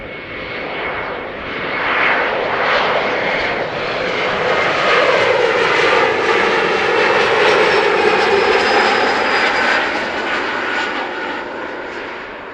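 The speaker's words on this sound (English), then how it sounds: "I think the Embraer inbound from Basel is going to be number" An Embraer airliner arriving at Amsterdam Schiphol Airport passes with a loud, sustained engine roar that swells and holds for the whole stretch, alone with no talking.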